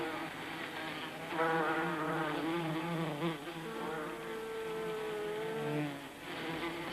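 A dense swarm of honeybees buzzes continuously, the droning hum close and loud with shifting pitches as many insects fly together, steady throughout with no voices.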